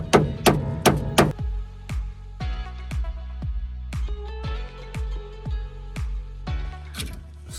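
Chipping slag off a weld on a Cybertruck's broken inner tie rod: a run of sharp, close metallic hammer taps, rapid at first and then a steady, evenly spaced series, each ringing briefly.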